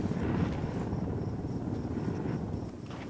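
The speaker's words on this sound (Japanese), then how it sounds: "ヘリ落ちましたね一体" A military helicopter in the tactical shooter Ghost Recon Wildlands gives off a steady rotor drone, loud and constant throughout, with no talk.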